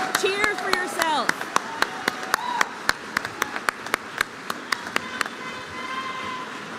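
Graduating students clap and applaud for themselves at a spring ceremony, distinct rhythmic claps over a busy crowd backdrop with scattered cheers and whoops, the clapping thinning slightly toward the end.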